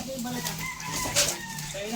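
A rooster crows clearly at close range, its drawn-out call carrying over a steady background of other fowl sounds with no talk.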